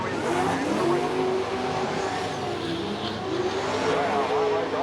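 Super sedan race cars at night at Charlton Speedway roar continuously, engines revving and shifting pitch as they lap the track, with a commentator's voice talking over the din.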